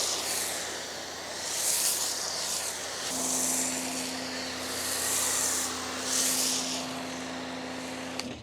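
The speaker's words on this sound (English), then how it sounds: "We're gonna go ahead and put a pH balanced soap onto the surface and then start to go ahead and scrub it." Mitt scrubbing of a Toyota Supra's paint with pH-balanced soap during a mobile detail, heard as soft rhythmic rubbing swishes in repeated broad strokes over a steady background hum, no talk.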